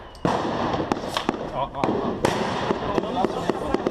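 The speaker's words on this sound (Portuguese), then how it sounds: "Tiros sendo ouvidos nesse momento na Rocinha." Repeated sharp cracking gunshots ring out at irregular intervals during a confrontation in the Rocinha favela, Rio de Janeiro, over a constant background of crowd noise and voices, loud and fairly close.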